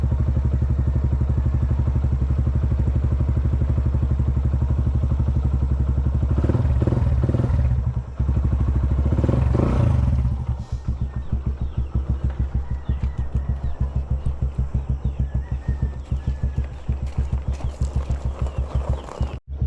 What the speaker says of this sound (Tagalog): Painitin lang natin yung makina niya.